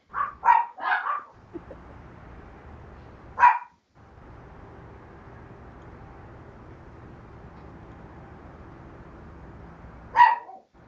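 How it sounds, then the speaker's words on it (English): Dogs bark in short bursts, a cluster of several barks at the start and single barks a few seconds apart later, moderately close over a low steady background rumble. "Oh, dogs."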